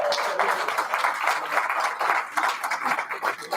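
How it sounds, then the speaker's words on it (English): An audience at a Rotary Club of Tacoma meeting applauds a member's anniversary, a steady, dense patter of many hands clapping that stays even throughout and carries no talk over it. "We'll applaud for you."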